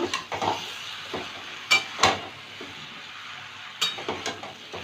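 Chunks of bottle gourd fry with spices in a pan under a soft sizzle, broken by several sharp spatula scrapes and clanks against the metal.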